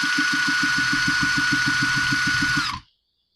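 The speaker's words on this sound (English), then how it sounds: "Then we'll be able to spin that motor over and check for spark." A Troy-Bilt string trimmer engine with no spark, spun over by a drill through a drill bit: a steady high whine over fast, even compression pulses for under three seconds, then a sudden stop into silence.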